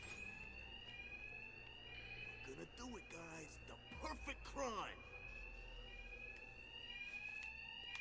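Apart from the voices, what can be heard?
alarms ringing in video game Batman: Arkham Knight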